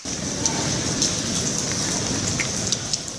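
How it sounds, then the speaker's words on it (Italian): Violent hailstorm over the Venice lagoon and mainland with lightning, thunder and wind: a dense, steady roar of hailstones drumming on surfaces, loud and continuous with occasional sharper impacts, and no voices. "Una violenta grandinata durata circa 15 minuti che lunedì sera si è abbattuta sulla laguna e sulla terraferma"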